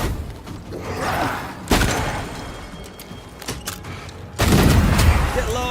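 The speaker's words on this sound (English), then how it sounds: "I think I heard the sound of a gun coming." Gunfire in Banishers: Ghost of New Eden, with several booming shots amid rumbling game ambience and a heavier blast toward the end, with a voice heard alongside.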